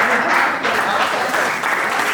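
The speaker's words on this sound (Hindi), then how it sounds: "बहुत जोरदार तालियों से भाई सबरस मुरसानी को आमंत्रित करें।" Loud, sustained audience applause welcoming a poet onstage at a Hindi comedy poetry recital, a dense, steady wash of many hands clapping with no break.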